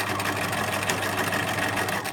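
A sewing machine runs steadily, stitching a pencil case seam on the final run up to the top of the fabric, a continuous close whirring hum without pause.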